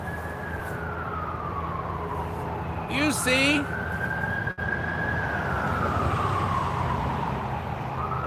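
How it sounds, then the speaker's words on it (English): An ambulance siren wails as it drives past off Interstate 24 near the Whiteside Tunnel in Tennessee, a long steady tone rising and falling over road noise, while someone briefly speaks partway through. "that ambulance go by."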